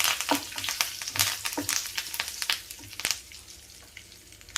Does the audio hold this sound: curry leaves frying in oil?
yes